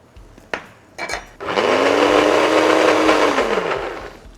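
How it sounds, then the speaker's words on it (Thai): A blender grinds lotus seeds loudly and steadily for about three seconds, its motor whine holding pitch, after a few short clunks and bursts as it starts. "ปั่นเลยครับ ให้เขาละเอียดนิดนึง"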